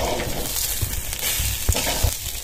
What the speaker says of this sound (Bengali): আর এখানে দেখতেছেন আতপ চাল ভাজতেছে, আর এই হলো মাসকালার ডাল